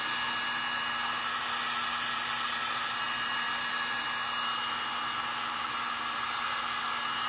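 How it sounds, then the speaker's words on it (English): A heat tool blows a constant, loud, even whoosh with a faint whine while heating friction pen ink to erase it, unbroken for the whole stretch with no talking. "So now all you want to do is take your heat tool to it."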